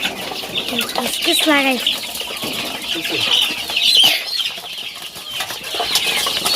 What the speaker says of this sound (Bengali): দেখেন মাশাআল্লাহ দিলে অনেকগুলো মুরগির বাচ্চা